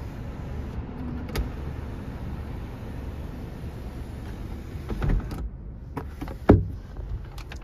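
The sunroof of a 2018 Honda Civic EX hatchback runs inside the car as a faint, steady electric motor whir over cabin hush, with a few soft clicks and a louder knock near the end.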